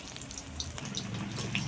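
Ridge gourd fritters frying in hot oil, a soft steady sizzle with faint crackles and pops, quiet and continuous with no talking.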